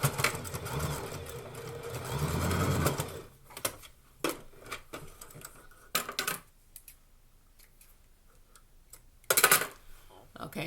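A sewing machine runs a tapered slant stitch in a rapid rattling burst for about three seconds, then gives short stop-start clicks and a final brief burst, with a person talking between the runs.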